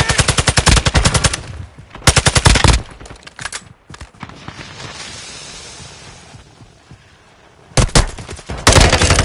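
Gunfire in Call of Duty Warzone 2, loud close bursts of rapid automatic shots at the start and end with a quieter rumbling lull between them.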